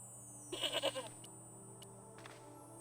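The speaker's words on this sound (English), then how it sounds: "What's that goat sound that's sometimes plays randomly?" A goat bleats once in the video game Broken Sword: The Shadow of the Templars, a short wavering cry over a quiet steady background hum, with soft clicks after.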